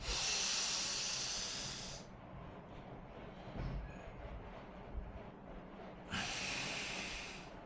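A deep pranayama inhale is drawn in as a loud airy rush, then held in near silence with only faint rustles, and later released as another strong breathy hiss, close to the microphone and with no talking.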